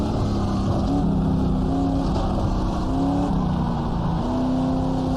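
A 1966 race car engine in the GTR2 racing game accelerates hard, a continuous buzzing roar that climbs in pitch through gear shifts, loud and steady, with no talking.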